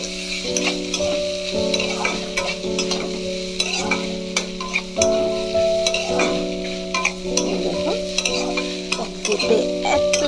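Kohlrabi frying in a pan with crunchy lentil bori and onion, stirred back and forth, producing a loud continuous sizzle broken by repeated spatula scrapes and clatters close by, with no talk.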